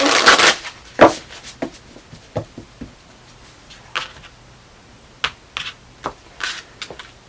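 Tarot cards being shuffled up close: a riffling burst followed by a series of sharp, irregular slaps and taps as the deck is handled.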